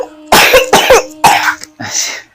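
A loud run of coughs close by, three sharp bursts in quick succession followed by a softer, breathier cough, from one person with no talking.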